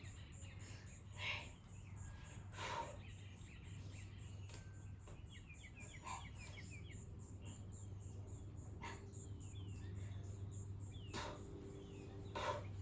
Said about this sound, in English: Those birds just distracted me.